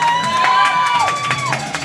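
A crowd at a pro powerlifting deadlift event cheers and whoops steadily and loudly, with a sustained whistle or shout running through it.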